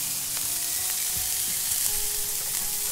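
Sucuk sausage frying in a pan with no added fat, a steady close sizzle and crackle with occasional faint stirring clicks, no voices.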